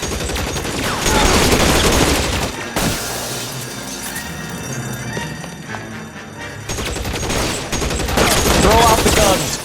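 Gunfire from a shootout in the video game L.A. Noire, with sustained bursts and crashing impacts filling nearly the whole stretch, dipping briefly in the middle before returning loud and dense.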